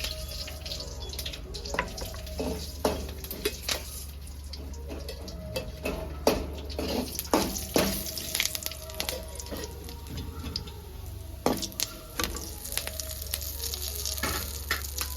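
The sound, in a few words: tempering frying in a pan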